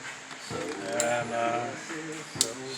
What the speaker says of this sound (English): Snap-on ratcheting box wrench. They're pretty cool.